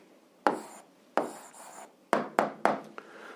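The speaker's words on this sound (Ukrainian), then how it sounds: "А зараз записуємо відповідь, пишемо відповідь" Pen strokes scratch across paper as an algebra answer is written out, in about six short, close bursts at an uneven pace, with no voices.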